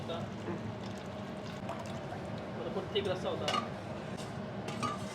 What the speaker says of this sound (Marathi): आता मी ह्याच्यामध्ये हे आपण जे मटण बॉईल केलं ना त्याचा रस्सा आहे बघ ते टाकणार आहे त्याच्यात